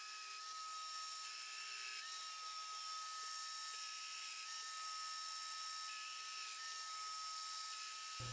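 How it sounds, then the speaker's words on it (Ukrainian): A domino joiner with a 12 mm cutter mills mortises in wood, giving a steady high-pitched motor whine that holds throughout and stops abruptly at the end. "Виготовляємо гнізда за допомогою присадочника доміно. Діаметр фрези 12 мм."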